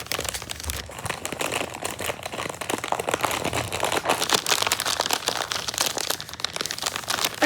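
Steady, close crinkling of a plastic bag, continuous rustles and crackles lasting throughout without any talking.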